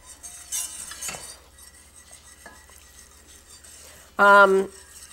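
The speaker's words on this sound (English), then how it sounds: "So we got 2 cups of milk that we're going to whisk into this, and this will thicken up." A whisk stirs milk into a thickening sauce in a pan for nacho cheese, a soft scraping under quiet background, followed by a short, loud clink of metal against the pan near the end, no talking.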